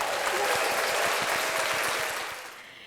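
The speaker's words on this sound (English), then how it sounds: "Round of applause for Will Holman," A crowd claps steadily in a dense wash of applause, fairly loud, tapering off toward the end.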